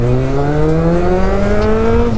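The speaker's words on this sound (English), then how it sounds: "With this bike I'm like, oh, I want to hear the engine" A loud engine hums steadily with rising pitch, as if accelerating under load, close and continuous with no other sounds.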